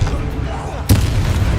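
Confringo spell blast in Hogwarts Legacy, a single sudden boom close at hand that follows a low rumble and then settles into a rumbling tail, with a voice speaking over it.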